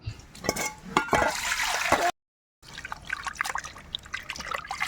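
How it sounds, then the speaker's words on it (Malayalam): Pond fish being washed in plenty of water slosh and trickle in close, uneven splashes, broken by a brief silent gap before the dripping and swishing resume. "അമ്മ അത് സൂപ്പറായിട്ട് കഴുകി വൃത്തിയാക്കിയാണ് അത് കുറേ വെള്ളത്തിൽ കഴുകണം"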